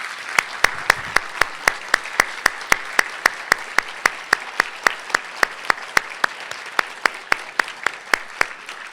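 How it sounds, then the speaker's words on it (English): Audience applause at a foundation's annual event, steady clapping from a crowd with a few sharp, loud individual claps standing out on top, sustained and close throughout. "please, if you would stand up so that we can greet you with a round of applause"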